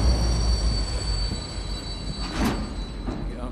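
A moving train in Wolfenstein: The New Order, with a loud, continuous rumble of rolling wheels and a couple of brief metallic squeals or hisses midway.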